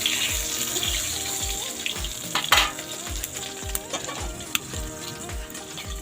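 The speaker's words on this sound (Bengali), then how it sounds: "এই যে বেগুন ভাজা প্রায় হয়েও গেল" Eggplant slices for begun bhaja fry in a pan with a steady, dense sizzle, along with regular soft thumps and occasional sharp clinks throughout.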